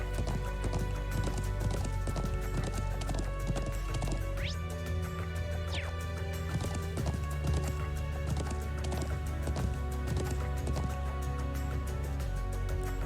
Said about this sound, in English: Lo and behold, it's that horse again.